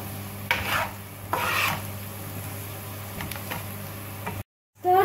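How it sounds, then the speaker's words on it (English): Onion and green chili being stirred in a pan for a chicken curry, soft sizzling with a few scraping strokes of the spoon, then a brief cut and a louder clatter at the end. "Stir it well. Nicely. Very nicely."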